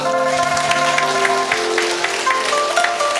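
Audience applause greets a guest, the head of the Chiang Mai Chinese association, at a national Chinese association general meeting in Nong Khai, 2019; steady dense clapping fills the room under sustained tonal music or voices.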